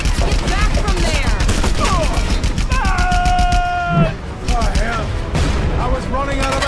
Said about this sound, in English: Someone doesn't like us. Panauan military. I recognize the flak.